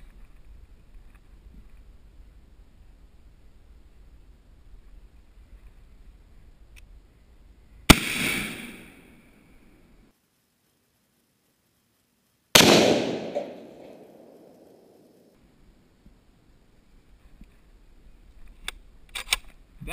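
Two heavy blasts from a Safety Harbor Firearms .50 caliber rifle ring out outdoors, spaced several seconds apart, each a loud sharp crack trailing into a rumbling decay, with quiet wind-like background between.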